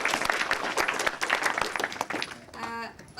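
Audience applause at a student orientation event: a burst of individual claps, close and irregular, that trails off as a voice begins speaking near the end.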